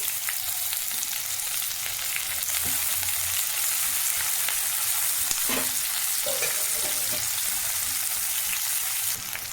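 Onions and curry leaves frying in a pan for green chilli chicken, a steady close hiss of sizzling oil with a few soft clicks of stirring, with no voices.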